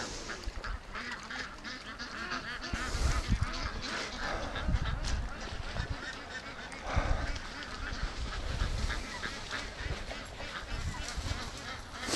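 Muscovy ducks at a lake give hoarse honks and quacks, with several birds calling near and far over outdoor ambience.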